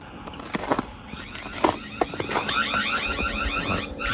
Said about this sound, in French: Donc là, l'alarme est déclenchée.